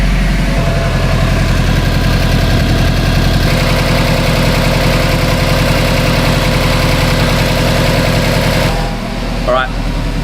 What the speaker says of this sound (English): So we should be good to turn the engine back off